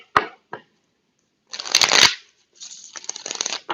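Tarot cards being shuffled by hand, a couple of sharp taps followed by two bursts of riffling and sliding cards, close and fairly loud, with no talking.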